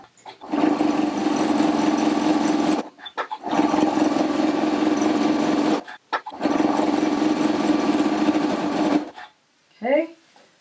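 A sewing machine free-motion quilting a quilt sandwich with aqua thread runs in three steady, fast-stitching bursts of a few seconds each, separated by short pauses, close and loud.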